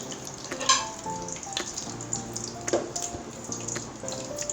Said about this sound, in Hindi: हमने थोड़े से अंडे फ्राई करके अभी थोड़ी देर और पकाएंगे